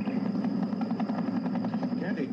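Military helicopters land Marines during a troop deployment, a steady loud rotor and engine drone filling the whole stretch with rhythmic chop.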